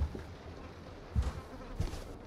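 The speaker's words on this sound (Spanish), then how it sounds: "Ya escucho moscas" Flies buzzing in the horror video game Project Nightmares, a faint steady insect hum with a few louder passes of wings sweeping close, alone without speech.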